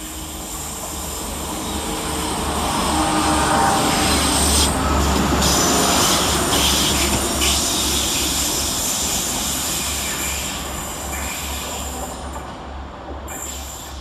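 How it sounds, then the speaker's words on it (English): Class 175 diesel unit 175006 rolls through Deansgate station in Manchester on a Llandudno to Manchester Airport service, a loud rumbling pass with engine drone and wheel noise that swells mid-way and fades, no talk. "going the other way 10 minutes late is 175006, working 1H87 from Llandudno to Manchester Airport"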